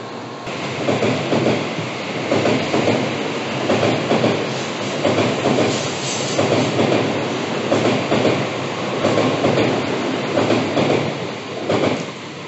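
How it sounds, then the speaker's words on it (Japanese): A Shinkansen train departs a station and rolls steadily past nearby, wheels clacking rhythmically over rail joints with a continuous rushing noise and faint squeals. "光631号新大阪行きの列車は発車していきます"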